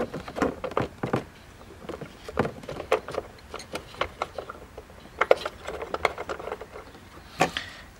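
A ratchet with a socket extension works loose the battery hold-down bolts on a C7 Corvette. Rapid, close clicking comes in uneven bursts over several seconds, with a few louder clacks and no talking.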